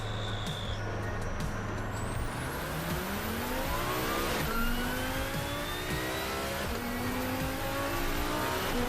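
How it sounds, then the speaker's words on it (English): A Lamborghini Huracan engine in a racing game revs hard and climbs through the gears, rising pitch sweeping up continuously, loud and close with no talking. "All right, driving the Lamborghini Huracan. Oh, that sounds neat, mean."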